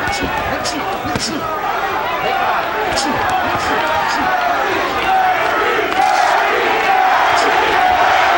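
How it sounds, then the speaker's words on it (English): Spectators at a 1991 boxing bout between Terry Norris and Donald Curry chant rhythmically in a large arena, the crowd's roar steady under a commentator's voice, with occasional sharp thuds and claps. "Crowd starting to chant, Curry, Curry, Curry."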